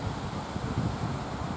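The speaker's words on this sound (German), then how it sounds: "rege Winde von der See her" Lively sea breeze blowing onshore on a hot evening before sunset, a continuous low rumbling gust buffeting the microphone, with a faint rustle and no voices.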